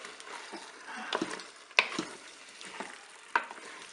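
Potatoes with cheddar are gently stirred in a Cookeo multicooker, giving soft scraping strokes and a couple of sharp utensil clicks against the pot over a quiet sizzle, close and without speech.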